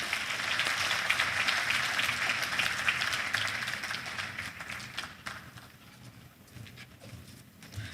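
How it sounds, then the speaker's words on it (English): Applause from a conference audience at an economics society meeting after a speech, a dense crowd clapping that fades toward the end, with no talk over it. "Please, another round of applause for Dr. Eric Ogulaye."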